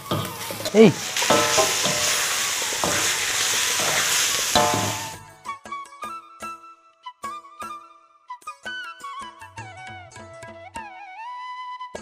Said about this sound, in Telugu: ఇప్పుడు అందులో కీమా వేద్దాం. కలుపు.